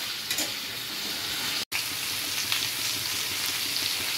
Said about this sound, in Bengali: এবার একটুখানি এটা ভেজে নেবো